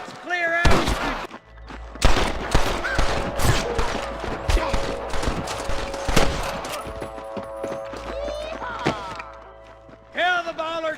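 Bursts of gunfire crack through a video game shootout with snipers in Red Dead Redemption, loud shots scattered irregularly amid shouting voices and game sounds.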